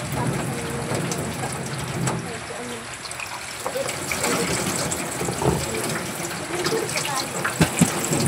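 Tap water runs steadily into a sink during dishwashing in a home kitchen, a continuous broadband wash with small clinks near the end, while people talk over it.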